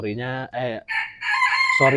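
A Sumatran red jungle fowl rooster crows once up close. The call is a loud, harmonic crow of about two seconds, broken into several rising and falling segments.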